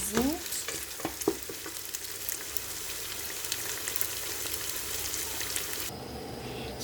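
Beef sizzles and crackles steadily in a pot with cumin seeds and cardamom, a close, continuous frying hiss with a few stirring clinks near the start and no talking.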